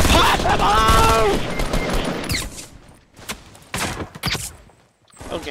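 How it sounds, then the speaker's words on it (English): Gunfire rings out in Fortnite, fired from behind the player, a burst of shots over game noise and a voice early on, then sparse separate cracks with short gaps between them. "how did you not notice the guy that was shooting right behind you?"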